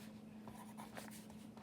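A number 2 pencil scratches across paper in an altered book, giving a quiet, steady scribbling rustle of short strokes close by, heard alone under a faint background hum.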